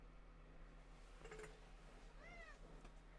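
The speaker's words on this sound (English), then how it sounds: "Other cat." Cat giving a short meow in a quiet room with a faint steady hum, the call brief and soft, no voices present.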